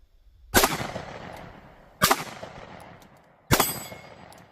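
Three loud, sharp gunshots fired slowly at a 6-inch circle target, evenly spaced about a second and a half apart, each followed by a decaying echo and near silence.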